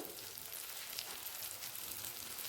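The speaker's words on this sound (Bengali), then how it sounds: "ভালো করে মশলাটা মিশিয়ে নেব মশলাটা কষানো হয়ে গেছে" A spice paste of turmeric, ground cumin, black pepper and Kashmiri red chilli powder fries in a pan for a chickpea, pea and potato curry, giving a steady, dense sizzle throughout with no voices.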